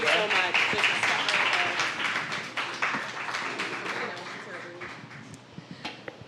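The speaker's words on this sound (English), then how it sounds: "Round of applause for Joanne, guys." A live audience claps for a departing presenter at a community sharing event, a dense burst of applause that gradually thins into scattered claps, with speech and cheers overlapping.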